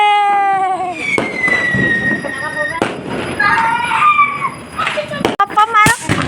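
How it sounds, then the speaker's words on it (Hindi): Small pop firecrackers snap sharply as they are thrown onto the ground, a few scattered cracks among the excited chatter and calls of children and an adult talking throughout. "ऐसे पटाखे चल गए हैं, पॉप पॉप नीचे फेंकते ही गिर जाते हैं।"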